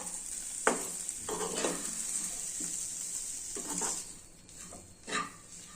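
Ridge gourd peel fries in oil in a pan, a steady hiss of sizzling broken by several soft scraping stirs, fairly faint and with no voices.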